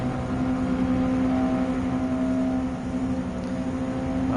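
A Honda S660 kei sports car in Gran Turismo 7 drones steadily as it accelerates through a tunnel in a lightweight K-car race, a constant near engine hum holding one sustained tone with no speech.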